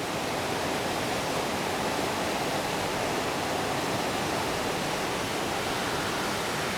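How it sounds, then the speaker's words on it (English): Loud, steady roar of a rushing snowmelt river in Kings Canyon National Park, California, a dense continuous torrent that never lets up, close by and filling the whole clip. "So you guys can see how violent water is."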